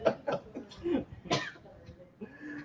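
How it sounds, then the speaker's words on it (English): Several bursts of coughing from a person during a casual podcast conversation, close and fairly loud, with voices talking around the coughs. "Stop coughing at me."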